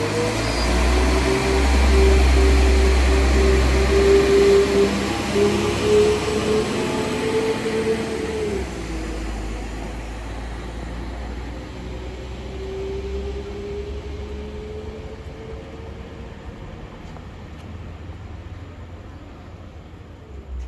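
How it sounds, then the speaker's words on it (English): A Class 197 train pulls away from a station platform on a route toward Manchester Airport, a loud low rumble with a rising then fading engine tone that gradually recedes into the distance. "Train now departing is a 197, leaving it is, going to Manchester Airport."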